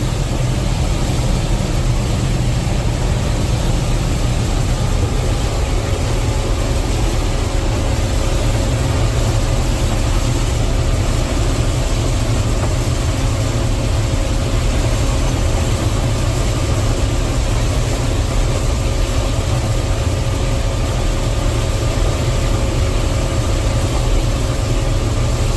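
A Gleaner combine harvester drives through a corn field at about 2.5 to 3 mph, its engine a loud, constant low drone with a steady mechanical whir and rattle heard from the cab, unbroken and without talk.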